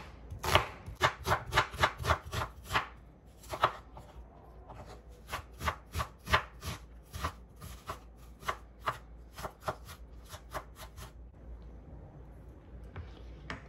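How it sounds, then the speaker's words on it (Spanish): A knife chops half an onion into small cubes for a tuna and chickpea salad: a quick, steady run of close, crisp chops on a board, a brief pause, then another rhythmic burst that slows toward the end, with no talk. "Ahora la mitad de esta cebolla la voy a picar en cuadritos, le quitamos la cáscara y la picamos en cuadritos pequeños."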